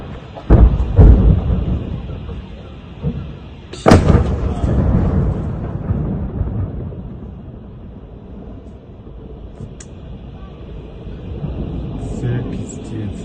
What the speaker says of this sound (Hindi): वहीं रशिया ने यूक्रेन के हथियार के गोदाम को ट्रैक किया और उस पूरे गोदाम को ही उड़ा दिया।